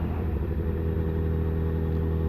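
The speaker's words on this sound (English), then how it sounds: "the way motorcycles sound" Deep, steady motorcycle engine rumble idling nearby, a low throbbing drone with no change in pitch.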